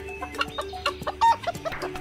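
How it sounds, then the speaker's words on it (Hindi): Village hens cluck and chatter in quick, overlapping bursts at close range, a busy run of short calls over two seconds with no talking. "पिंकी के पास बहुत सी मुर्गियां"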